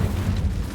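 A fire spell cast in Hogwarts Legacy on PS5 lets out a short, loud, booming burst with a deep rumbling whoosh, filling the whole moment at close range.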